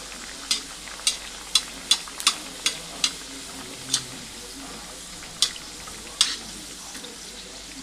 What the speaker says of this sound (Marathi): कमी गॅसवर तळायचे आहे म्हणजे आतून छान क्रिस्पी होतील